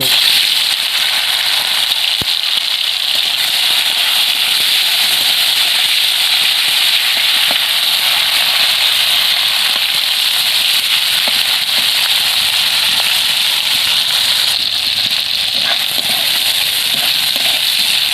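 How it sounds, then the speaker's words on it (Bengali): Fish rubbed with salt and turmeric fry in hot mustard oil, giving a loud, continuous sizzle and hiss with dense crackling spatter that never lets up. "সরষের তেল গরম করে নিচ্ছি প্রথমে আমি নুন হলুদ মেখে রাখা মাছগুলো ভেজে"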